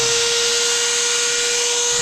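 A magnetic drill powered from a Bluetti AC180 portable power station runs steadily with a loud, constant high-pitched motor whine and a sharp tonal hum, with no speech.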